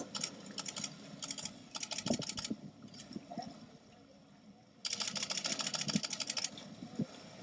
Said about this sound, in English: The clicking is the sound of my camera